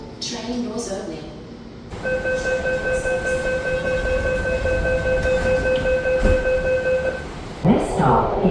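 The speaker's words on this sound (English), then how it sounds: "Train doors opening." A Sydney Metro train's doors open to a steady electronic warning tone. The tone holds for several seconds over rumbling carriage noise and station ambience, with a brief clatter as it ends.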